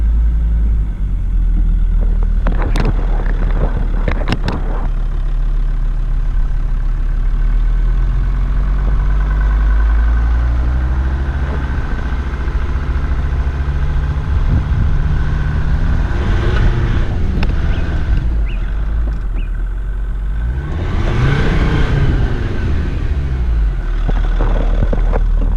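A Jeep Grand Cherokee with a 2.7L CRD turbo diesel crawling in low-range first gear over 4x4 hill tracks in Tasmania, a steady loud engine rumble throughout with occasional knocks and swells.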